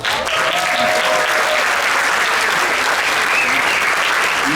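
Loud, dense applause from a large audience for the champions at a gala show, continuous clapping filling the room throughout.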